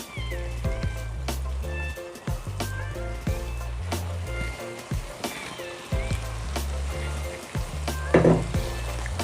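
Fried okra (bhindi) tipped into a hot masala paste sizzles and spatters steadily in a pan, with stirring and scraping clatter, loud and close, with no talk over it.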